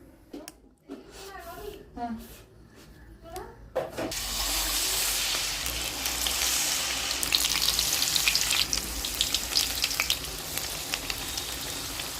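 Batter-coated fish fry in hot oil, a steady loud sizzle that rises after voices speak over the opening seconds, with crackling bursts growing denser toward the end.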